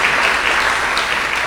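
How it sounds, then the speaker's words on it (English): A meeting audience applauds in a short, steady burst of dense clapping, loud and continuous from start to finish. "Can we get a round of applause,"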